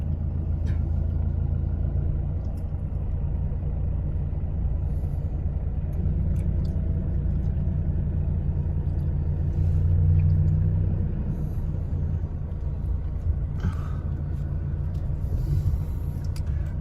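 A bus drives in with a low, steady engine rumble lasting throughout, swelling briefly midway, heard fairly near without speech.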